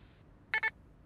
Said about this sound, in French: Après le bip, vous savez quoi faire?